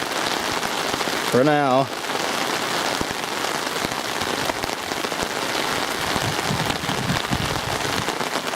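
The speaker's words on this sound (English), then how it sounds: "we are definitely getting the rain" Heavy rain pours steadily during Hurricane Irma in Orlando, a loud, unbroken hiss of drops on the ground throughout, with someone speaking briefly near the start.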